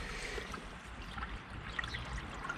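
A one-person Story Highline drop stitch inflatable kayak glides through water, with soft, steady trickling and lapping close by and no voices.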